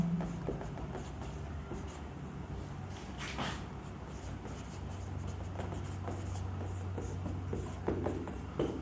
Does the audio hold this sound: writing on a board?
yes